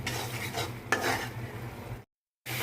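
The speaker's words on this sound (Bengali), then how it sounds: "মশলাটা ভালো করে এখন কষিয়ে নিব" Spice paste being stir-fried in a pan, with soft continuous scraping and a faint sizzle, a sharper clatter near one second, then a brief silence before the stirring resumes.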